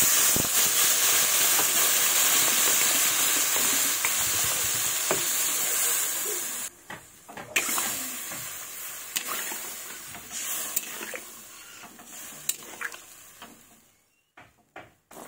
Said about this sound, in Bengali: এই দেখুন, এবার জল দিয়ে দেবো।